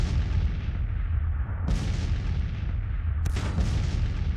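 Civil War artillery booms in a Grand Tactician: Civil War battle at Gettysburg, a dense, continuous rumble of massed cannon fire with two sharper, louder blasts standing out about a second and a half apart.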